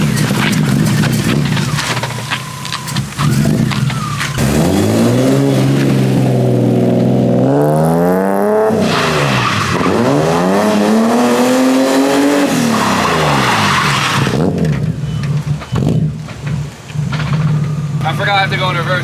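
A BMW E30 fitted with an individual-throttle-body S52 engine revs hard on a dyno, loud and close, with several rising and falling sweeps, sharp throttle blips and a steady harmonic drone between pulls.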